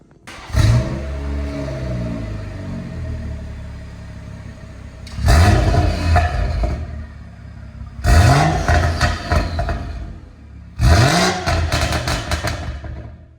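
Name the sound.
BMW 340i B58 engine revving through Scorpion stainless exhaust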